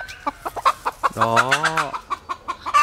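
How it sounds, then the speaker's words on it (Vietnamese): A mother hen jumps off her nest of eggs in a coop, clucking in a rapid series of close, loud notes with a drawn-out, rising squawk partway through. "sau khi có động của người quay phim thì gà mẹ bắt đầu nhảy ra"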